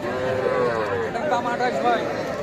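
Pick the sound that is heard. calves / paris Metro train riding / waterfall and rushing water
calves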